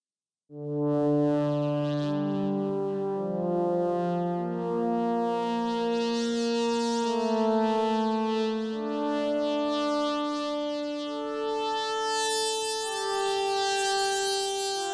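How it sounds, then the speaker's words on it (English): A dry synthesizer plays a slow melody of sustained, buzzy tones that shift in pitch, steady in loudness with no echo or added effects. "if you take off the reverb and the effects, a lot more like a weird synthesizer sound"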